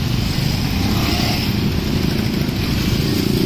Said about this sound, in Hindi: कितनी सारी बाइकें हैं